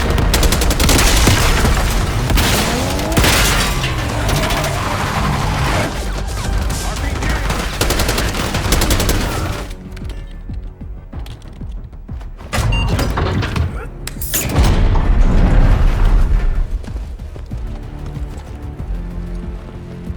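Sustained, loud bursts of rapid gunfire in a Call of Duty Black Ops 6 cutscene, dense for the first ten seconds, then quieter with sporadic louder volleys and crashes returning toward the end.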